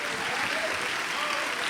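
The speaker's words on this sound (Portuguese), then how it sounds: "Isso, aplauda mesmo a Jesus" A church congregation applauds during a Sunday communion service, producing a steady, full wash of clapping that stays constant throughout.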